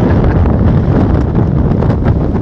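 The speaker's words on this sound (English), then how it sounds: "full gale wind warning in effect" Full gale wind roars across a beach on St. Simons Island, Georgia, a loud, continuous buffeting rush that batters the microphone with heavy low rumble throughout.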